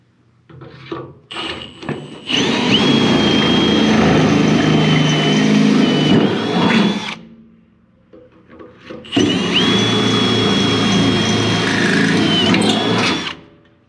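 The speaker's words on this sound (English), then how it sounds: "alright, I got those 2 drilled" A power drill bores holes into a gooseneck trailer in two long, loud, steady whirring bursts of about five seconds each, separated by a short pause with lighter handling noises before and between.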